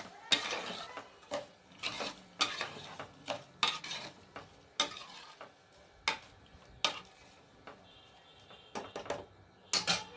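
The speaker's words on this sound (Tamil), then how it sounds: "போட்டு நல்லா மிக்ஸ் பண்ணி விட்டுக்கலாம்." A spoon stirs green gram dal curry ingredients, tomato, garlic and turmeric, in a metal pot, making a steady series of sharp scraping clinks at a regular rhythm, close and fairly quiet.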